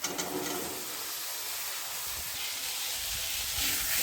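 Soaked kabuli chickpeas hitting hot oil in a pan for ghugni, giving a steady close hiss and sizzle that holds evenly and swells slightly at the end, with no talk.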